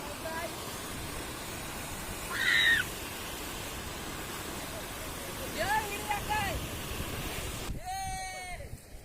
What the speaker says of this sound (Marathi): पाणी बघा मित्रांनो किती फास्ट चाललाय